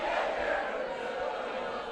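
Grêmio supporters cheering the arrival of player Luan, a brief burst of distant crowd roar and shouting at moderate volume.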